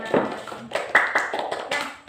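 Schoolchildren in a classroom give a short burst of hand clapping, a close, ragged patter of claps lasting about two seconds.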